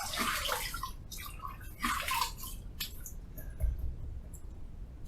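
Hands splash water onto a face before shaving, a few close, wet splashing and sloshing bursts, with quieter drips and small handling sounds between them.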